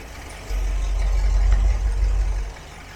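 A Dodge 318 V8 engine idles at around 700 rpm during an oil pressure test, a loud, steady low rumble that swells in after a moment and holds evenly, close to the listener with no talking.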